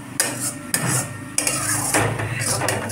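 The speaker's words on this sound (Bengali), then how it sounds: "এবার ভালো করে সব মশলা মিশিয়ে নিয়ে কষতে থাকবো যতক্ষণ না মশলা থেকে তেল ছাড়ে।" Spice masala being stir-fried in a pan, with sharp metallic clanks of a utensil striking the pan at uneven intervals over a low background sizzle.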